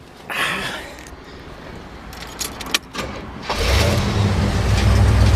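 A 1968 Cadillac DeVille convertible's big engine cranks with a few key and starter clicks, then catches and settles into a loud, steady low idle, heard up close.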